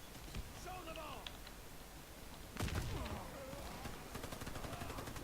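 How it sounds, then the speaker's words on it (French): Gunfire in the Warface video game: bursts of automatic fire, with a loud burst near the middle, over game ambience while players talk throughout. "Il tire à travers les cartons."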